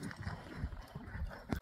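A horse at a horse market, hooves clip-clopping in an uneven shuffling rhythm on the ground, close and fairly faint.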